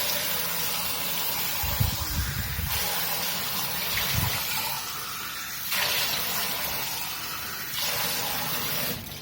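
Water running from a Samsung refrigerator's door dispenser into a cup after a filter change, a steady broadband gush in repeated bursts of a few seconds each, close and fairly loud with no talk over it.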